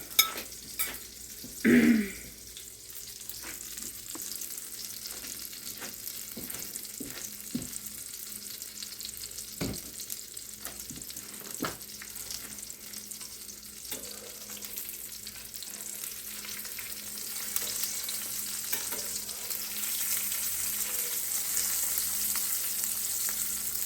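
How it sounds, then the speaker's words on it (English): Food sizzles steadily in a hot skillet, a continuous crackling hiss with a few scrapes and clinks of a utensil, growing slightly louder toward the end. "And then into the skillet it goes."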